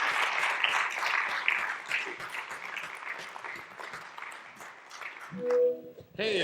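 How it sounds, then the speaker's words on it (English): Applause from a brass camp audience at a conference session in South Carolina, a steady patter that thins over several seconds before a voice and a short tonal sound break in near the end. "Let's give Sergio a round of applause."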